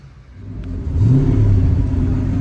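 A Ford Mustang SN95 on new coilovers pulls away, its engine rising from a low idle into a loud, close revving rumble that keeps droning as the car drives off, with no voices.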